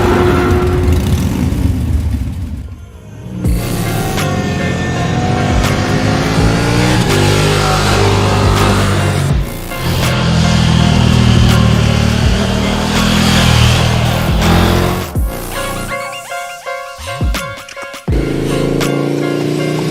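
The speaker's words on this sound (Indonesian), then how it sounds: "Ini knalpotnya standar bang, gak seru bang. Knalpotnya bersuara lah bang." A KTM motorcycle with its stock exhaust revs loudly and close, the engine climbing and dropping through repeated throttle blips with brief lulls and a sharp cut near the end before roaring again.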